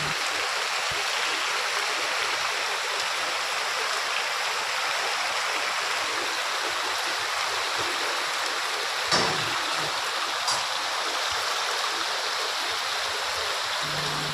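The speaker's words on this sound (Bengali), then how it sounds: "ভিডিওতে কতটা আসছে বলতে পারবো না, তবে ভীষণ পরিমাণে বৃষ্টি হচ্ছে।" Heavy rain pours down outdoors as a loud, steady, unbroken hiss that fills the whole stretch, with a couple of faint knocks and no talking.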